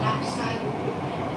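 Interior of a moving Saigon metro train: a steady, broad rumble and hiss of the ride fills the space continuously, with faint voices in the carriage.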